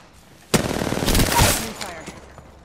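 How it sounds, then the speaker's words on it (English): In Apex Legends, a sudden close burst of automatic gunfire bursts out, rattles on for about a second and then fades into a softer tail and quiet game ambience. "Getting shot at."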